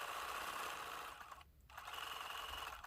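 A home sewing machine runs a close satin stitch on fusible applique for a quilt block, its rapid, even needle chatter continuing at moderate level with a brief slowdown in the middle before resuming.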